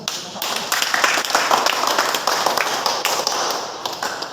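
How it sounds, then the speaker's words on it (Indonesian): Audience applause after a presentation in a classroom or meeting setting, a dense burst of many hands clapping steadily for several seconds, loud and close. "Atas pertanyaan kita beri aplaus dulu."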